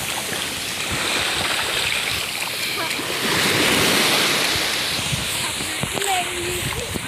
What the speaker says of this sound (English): You should put it underwater when the waves come like under it.